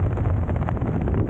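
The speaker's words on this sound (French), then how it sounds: "Tu vois, il y a du vent là." Wind buffets the microphone outdoors as a steady, close, low rumbling roar that fills the whole stretch without a break.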